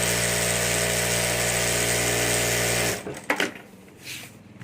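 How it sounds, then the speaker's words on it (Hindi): A sewing machine stitches the handle of a handmade handbag, running in a steady, loud mechanical whir for about three seconds before stopping, followed by a few faint clicks and fabric rustles. "और अब यहाँ भी हमें सिलाई कर देनी है।"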